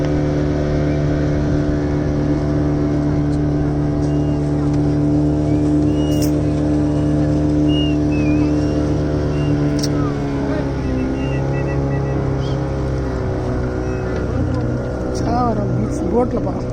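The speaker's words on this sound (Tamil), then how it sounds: "போட்டில் போகிறோம்" A motorboat's engine drones steadily and loudly through a boat ride in the Pichavaram mangroves, its tone shifting slightly now and then, with voices talking over it.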